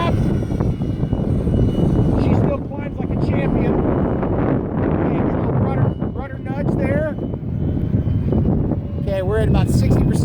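A Durafly DH 100 Vampire MK 6 RC model jet flying at full power on a very windy day, giving a loud, continuous ducted-fan roar that rises in pitch, mixed with heavy wind buffeting, while someone talks over it nearby.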